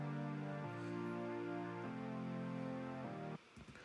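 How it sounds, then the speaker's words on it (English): Warm synth pad made from a sample in the Silent 1 instrument, with highs and lows cut, holding smooth sustained chords that shift three times before cutting off abruptly into a brief noisy tail. "I created a pad from Silent 1."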